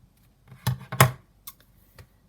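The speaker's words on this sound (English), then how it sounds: "So I might just cut a little piece of that off." Scissors snip through pink lace in a few short, quiet cuts, two sharper snips close together followed by softer ones, with no talk.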